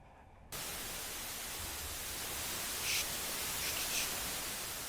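Harsh white noise static from a video game, starting abruptly and holding at a loud, even level for several seconds with faint bursts near the end.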